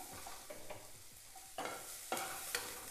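Paneer cubes being stirred and turned in a kadai as they finish frying, with soft scraping strokes and a few sharper clatters of the spoon against the pan over a low background sizzle, close by with no talking.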